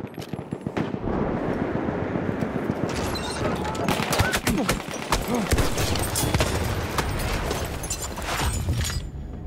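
Heavy guns in Battlefield 1 fire in a relentless, loud barrage of overlapping shots and booming blasts that rolls on continuously, with dense crackling bursts throughout.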